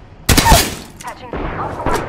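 Gunfire in Apex Legends, likely from a shotgun: a loud close blast, then a couple of quicker shots over a busy game soundscape, with voice callouts around them.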